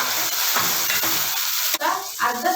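Onion frying in a pan for a Tulu home-cooked dish, giving a loud, steady close-up sizzle with occasional stirring scrapes throughout.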